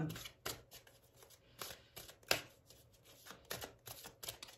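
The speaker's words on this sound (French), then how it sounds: "Donc, on va prendre le tarot de la bienveillance. On va prendre deux cartes." Tarot cards being shuffled and drawn, with brisk repeated riffling and flicking bursts close by, under someone speaking French softly throughout.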